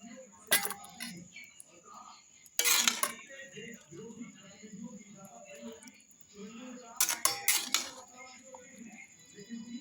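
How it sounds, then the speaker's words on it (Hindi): Cooked bitter gourd curry is scraped and tipped from one metal pot into another, with sharp spoon-on-pan clanks recurring among softer scrapes while someone talks throughout. "अब इस सब्जी को मैं दूसरे बर्तन में डाल रही हूँ।"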